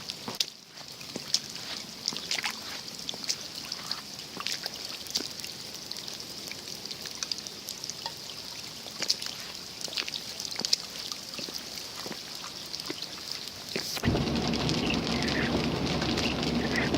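Floodwater trickles and patters steadily in a flooded yard near the front porch steps, a close, continuous wet hiss with scattered drips. A louder, fuller rush of water takes over near the end.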